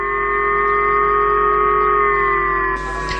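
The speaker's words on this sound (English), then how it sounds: "Sirens sounded across the region" Civil defense siren wailing across northern Japan during a missile alert, a loud, steady multi-tone howl that holds its pitch, then drops off slightly at the end.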